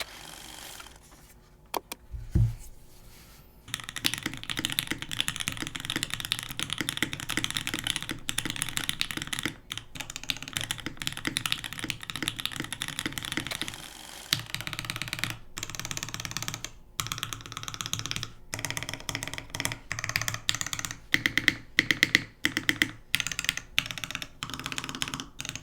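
Typing on a Bauer 2 mechanical keyboard with lubed Gateron Oil King switches, an aluminum plate and GMK Botanical keycaps: steady close clacky keystrokes in fast irregular bursts, alone, with a few louder spacebar-like hits near the end.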